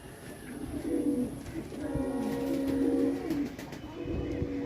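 Teddy pigeons coo in repeated soft, throaty rolls close at hand, the calls overlapping in a steady stream with a faint hum of distant traffic underneath.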